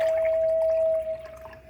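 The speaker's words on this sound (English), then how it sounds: "Fresh water goes in here." Fresh water poured into a silver-plated pitcher gives a short, steady ringing pour that stops after about a second, followed by a few faint trickles and drips.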